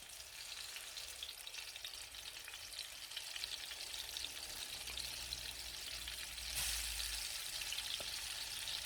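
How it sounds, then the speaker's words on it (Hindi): Chicken fries in a little hot oil in a pan, with a steady close sizzle throughout and a louder crackling burst partway through as more is added. "अब हम डालेंगे थोड़ा सा ऑयल फ्राई करने के लिए, और उसमें ये डाल देंगे।"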